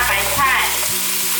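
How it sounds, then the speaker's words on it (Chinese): Napa cabbage being stir-fried with king oyster and shiitake mushrooms for a vegan potato dish, a strong steady sizzle of hot oil with a low hum underneath, close and continuous, no voices. "大略拌炒一下"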